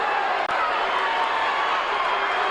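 Wrestling arena crowd roaring in support of Terry Taylor during a Houston match against Krusher Khruschev, a steady, loud wall of cheering that stays constant throughout.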